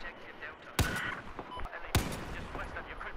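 Two sharp, loud M82A3 sniper rifle shots in Battlefield 4, about a second apart, each a hard crack with a short echoing tail over low battlefield ambience.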